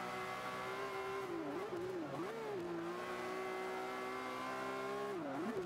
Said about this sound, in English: Man, their engine sounds so cool,